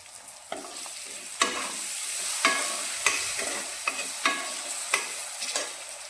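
Chopped tomatoes frying with ground red chilli in a pan for a vegetable dalia pulao, a bright continuous sizzle punctuated by repeated spatula strokes scraping the pan at a steady pace.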